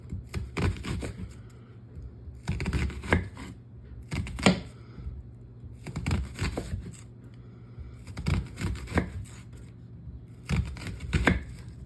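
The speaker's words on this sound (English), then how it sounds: "I'm going to chop this up." A knife slices an onion into thin slices on a board, quick rhythmic runs of crisp cuts arriving in about six close, evenly spaced clusters with short pauses between, no voices.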